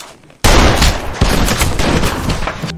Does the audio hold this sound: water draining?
no